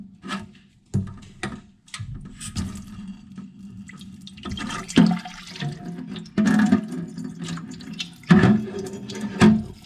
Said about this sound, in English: These are very tightly in here now, so there's water run over the top.